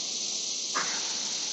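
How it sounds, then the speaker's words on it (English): Annual cicadas buzz in a continuous, loud, high hiss that holds steady throughout, with no talking. "what you're hearing now is the normal annual cicadas."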